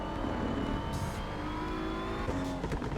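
A race car in Assetto Corsa Evo drones at steady high revs with a strong engine tone, loud and close, with a brief shift or tire noise near the end and no talking.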